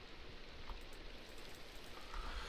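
Steady rain hissing down in modded Minecraft, a continuous broadband wash with scattered droplet patter, fairly quiet and even throughout with no talking.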